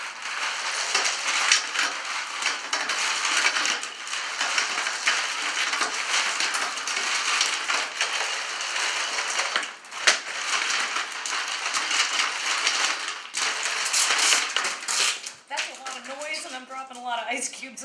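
Lots of ice cubes poured into a big container for a chicken brine, a long, loud, continuous clattering rush with a brief knock partway and a faint voice near the end.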